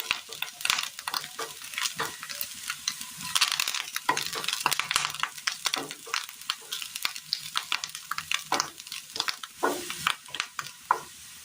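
Curry leaves fry and sizzle in a pan as they are stirred, giving steady crackling with frequent sharp scraping and clicking strokes close by.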